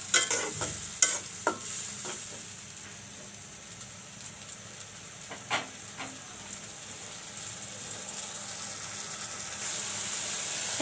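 Spice masala being stir-fried in a pan for a tomato bhangna fish curry, a steady broadband sizzle with scattered sharp scrapes and clinks of the spatula, close and fairly loud throughout with no talking.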